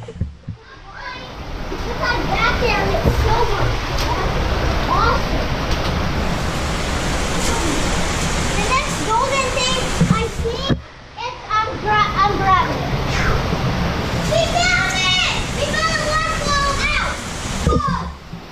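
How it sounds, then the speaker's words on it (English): Underground waterfall inside Eden Cave, a steady loud rush of falling water filling the space, with children shouting and adults talking excitedly over it throughout. "We found a new waterfall!"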